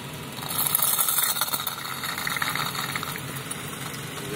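A car engine runs at idle after Marvel Mystery Oil was put into the intake, a low steady running sound with a slight rattle and a brief swell early on, and no talk over it.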